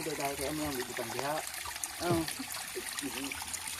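Water trickles steadily from a large pipe serving a rural village, a soft continuous flow beneath nearby talking voices.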